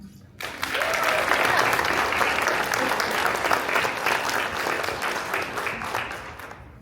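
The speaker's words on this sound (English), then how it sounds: "Please join me in giving a warm welcome to our guest speaker, Pablo Antonio Ibanez Granada" An audience at a school honor society induction ceremony breaks into applause after a short silence. The clapping is steady and dense and carries on for several seconds.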